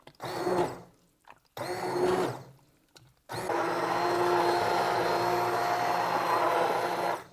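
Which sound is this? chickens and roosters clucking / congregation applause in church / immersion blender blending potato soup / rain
immersion blender blending potato soup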